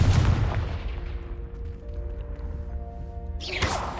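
Spell explosion from Confringo in Hogwarts Legacy: a loud booming blast up front that decays into a low rumble with lingering ringing tones, then a second sharp crack near the end.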